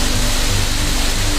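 Steady, broadband rush of a waterfall that flows year-round beside a hot spring at the foot of hills, heard up close as a continuous roar with no talking.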